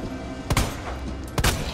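Two sharp gunshots fired in the survival-horror game Resident Evil 2, spaced about a second apart over a low background hum, loud and close.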